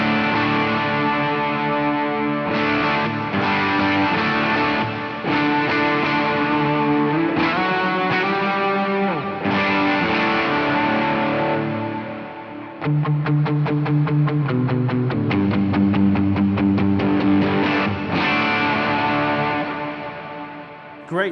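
Electric guitar played through the distortion setting of a Chaos Audio Stratus multi-effect pedal, with a Clear Sky Overdrive also on: loud, sustained distorted chords and riffs ringing on continuously, with a few brief dips between phrases.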